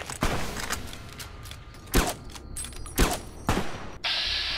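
Gunfire in the video game Fallout New Vegas: several sharp, loud shots at irregular intervals, with mechanical clatter and a hissing tail between them.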